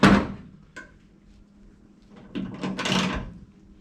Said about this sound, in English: make sure that door is closing